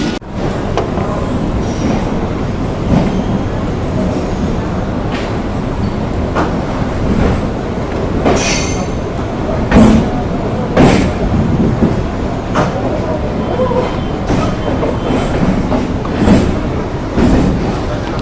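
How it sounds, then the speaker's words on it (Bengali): A suburban local train pulls out of Sealdah station in Kolkata, a steady loud rumble of rolling carriages with occasional clanks and rattles running throughout. "এখন আমাদের ট্রেন তার সোর্স শিয়ালদার থেকে, তার নিয়মিত সময় থেকে 5 মিনিট লেটে ছাড়লো"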